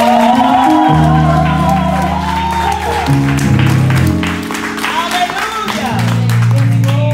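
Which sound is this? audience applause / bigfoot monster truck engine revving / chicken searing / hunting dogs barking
audience applause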